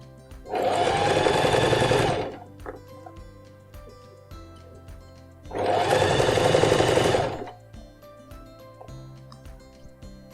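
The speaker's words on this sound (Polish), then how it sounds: "Ja jeszcze tutaj trochę pomogę ręką i jak już mi to przeskoczy, to swobodnie mogę szyć dalej" Sewing machine stitching the hem of a pair of jeans in two loud, steady bursts of about two seconds each, separated by quieter pauses with small handling clicks.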